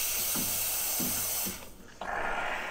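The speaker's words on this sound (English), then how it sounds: "So if you just run the steam wand for 4 to 5 seconds, then you can get rid of that." Steam wand on a MiiCoffee Apex espresso machine being purged, a loud steady hiss with a few spluttering bursts, a brief dip in the rush, then the hiss resuming strongly, heard close up.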